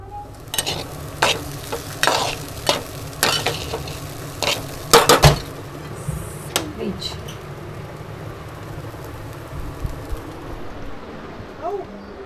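Kande pohe and a sandwich cooking in a pan at home, with repeated sharp clinks and scrapes of a utensil against the pan over a low sizzle, birds faintly in the background.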